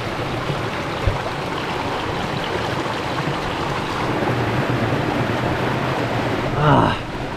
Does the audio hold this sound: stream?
yes